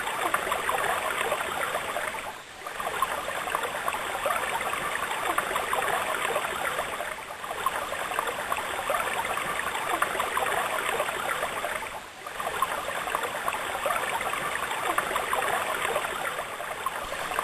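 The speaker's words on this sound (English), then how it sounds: "Water flowing downhill from the tank initially is used to drive the dynamo in the Pelton." Water rushes steadily downhill from a tank toward a Pelton wheel dynamo, a continuous broad hiss of flowing water with a few brief dips, at moderate level and with no voices.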